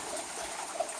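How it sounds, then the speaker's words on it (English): Creek water flows steadily beside a mine portal and rock wall, a soft continuous trickling and burbling that stays close and even for the whole second, with no voices. "And of course the creek flows downstream through there."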